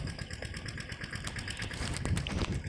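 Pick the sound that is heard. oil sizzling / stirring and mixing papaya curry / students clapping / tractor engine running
tractor engine running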